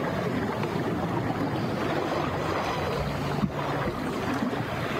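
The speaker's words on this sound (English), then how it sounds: "to hear its waves." Water lapping on the Sea of Galilee makes a steady broadband wash with wind rumble across the microphone, no talking, and a brief dip and bump partway through.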